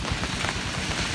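Rain pours steadily outdoors beside a roadside fishing spot, a dense, close hiss of drops striking surfaces with no breaks and no voices.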